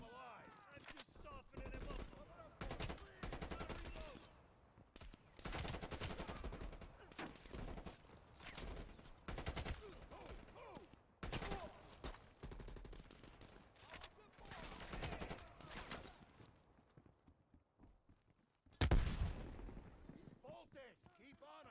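Frequent bursts of automatic and single-shot gunfire crackle through a Call of Duty Black Ops Cold War campaign firefight, loud and close, with a player speaking in between and a short lull before a final blast.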